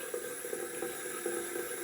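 Cold water runs from a tap into a sink before a shave with vintage Gillette razors, a faint, steady splashing stream with no voices.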